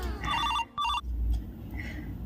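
A telephone rings in two electronic bursts with a short gap between them, loud and close, followed by a quieter faint tone while background noise continues.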